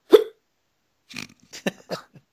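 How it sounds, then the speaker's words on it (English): A man hiccups once, sharp and close, followed after a pause by several softer, short vocal bursts. "Got the hiccups."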